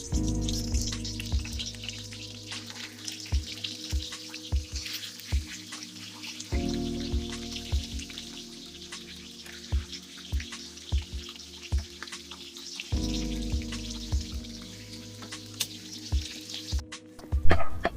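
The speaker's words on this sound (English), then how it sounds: "So now I'm going to fry the fish and just put in some oil in the pot, wait for it to heat, and then I'm gonna add the fish in." Fish frying in hot oil in a pot: a steady, close crackling sizzle with scattered sharp pops and spits, running alone without talk throughout.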